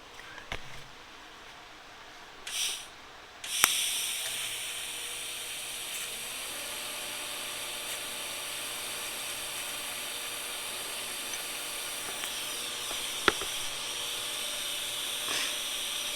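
A TIG arc on a new Miller Dynasty 300 welder joining mild steel with 1/16 inch ER70S filler rod gives a steady, even hiss with a few sharp clicks, held close and alone for most of its length.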